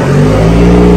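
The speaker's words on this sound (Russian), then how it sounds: "там завелся другой автомобиль" Another car's engine runs loudly and close by, alongside a Cummins turbodiesel Ram and a Grand Wagoneer Obsidian, giving a steady, dense idle drone with strong low harmonics and no pauses.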